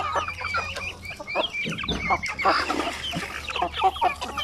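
Basilan native chicken hens cluck steadily and overlapping in a breeding pen, a busy chorus of close poultry calls with a low hum running underneath.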